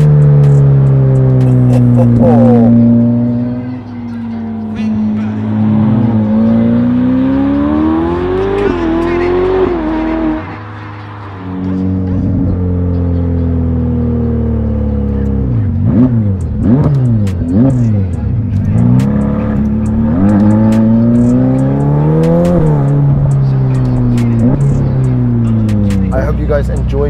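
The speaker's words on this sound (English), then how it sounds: "At higher speeds especially, it just ends up giving you this blowing sound from the turbos" A Novitec-tuned Ferrari F8 twin-turbo engine revs and accelerates in long rising sweeps, loud and close, with brief lifts between pulls and turbo whooshing as it climbs.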